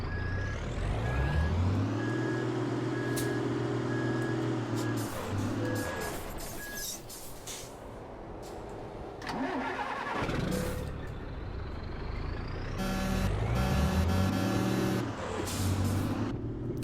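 A heavy truck engine in Euro Truck Simulator 2 drones and revs with shifting pitch, while steady reversing beeps pulse in a regular rhythm, then return later alongside hissing air brakes.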